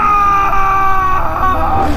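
A loud, sustained scream from Sudhir in a horror suspense story, a strained high wail holding steady for about two seconds with no other voices.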